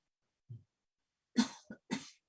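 Several coughs picked up close on a microphone at a church discipleship gathering: one short soft cough, a pause, then three louder harsh coughs in quick succession, with no talking.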